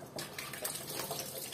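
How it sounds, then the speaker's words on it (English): Warm tap water running for washing a face during a makeup-removal routine, a steady close hiss and splash of flowing water with no talking. "So let's wash it with warm water."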